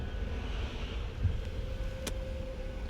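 Street traffic outside a temple on a busy Janmashtami night, a steady low rumble of passing vehicles with a faint high hum and one brief sharp click partway through.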